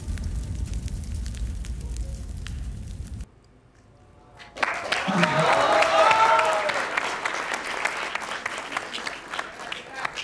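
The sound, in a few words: studio audience applause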